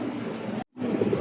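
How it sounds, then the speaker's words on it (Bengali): Pigeons cooing, a pair of black Bombay pigeons with yellow eyes, giving steady low throaty calls with a brief break midway, close and continuous. "মাশাআল্লাহ, দেখছেন কবুতরের ডাক"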